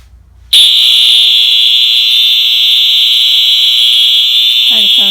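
An MS2 fire alarm horn cuts in abruptly after a brief quiet moment and blares continuously, very loud and close, as a steady piercing tone during a system test; a voice begins speaking faintly at the very end.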